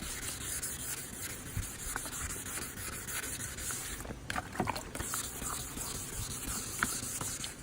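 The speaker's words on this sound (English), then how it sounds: "Again, now we're doing with the 1000 grit." Headlight lens being wet-sanded by hand with 1000 grit sandpaper, a steady close scratchy rubbing that continues without pause, with a couple of brief louder scuffs midway.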